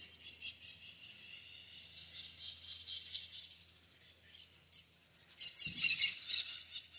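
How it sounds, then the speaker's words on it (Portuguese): Small birds chirp faintly in a small-town square in front of a parish church in Balbinos, São Paulo, with sparse calls rising to a brief cluster of brighter tweets near the end over quiet outdoor ambience. "Passarinhos felizes ali no céu."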